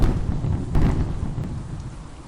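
Thunderstorm used as a sound effect in horror narration, with steady heavy rain and a low rolling rumble of thunder, loud and continuous, with no voices.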